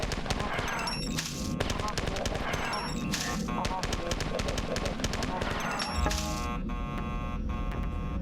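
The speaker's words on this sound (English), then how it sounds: "The trooper grenade launcher shoots the grenades really fast." Trooper grenade launcher in the Marathon Eternal video game firing grenades in rapid bursts, dense layered game explosions and rattling fire over a constant busy soundtrack.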